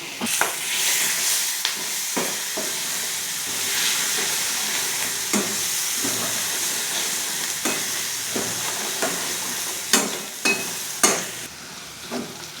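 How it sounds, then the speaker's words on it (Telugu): Spices tempering in hot oil for tamarind rice sizzle steadily, with scraping and clinking strokes of stirring at an irregular beat, loudest near the end; no voices. "ఇవి ఇప్పుడు బాగా ఫ్రై అయిపోయండి."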